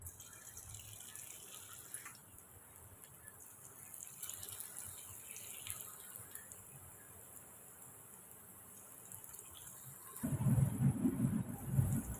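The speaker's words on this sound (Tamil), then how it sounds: "இப்போ நம்ம எண்ணெயும் காஞ்சிருச்சு போட்டுக்கலாம்" Spinach vada batter goes into hot oil after a long, faint, quiet stretch, and a loud, bubbling sizzle bursts up close near the end.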